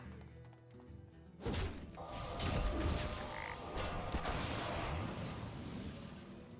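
Faint frog croaking inside a video game, heard amid a jumble of thuds, clatter and mechanical game sounds that start abruptly after a quiet opening.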